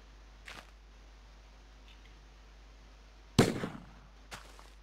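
A blunderbuss fired in a video game: one sharp, loud blast with a short decaying tail, preceded and followed by fainter softer pops against a quiet background.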